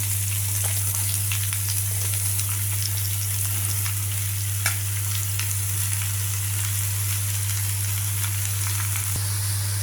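Ridge gourd pieces sizzle steadily in hot oil tempering, a dense crackling hiss that never lets up, over a low constant hum.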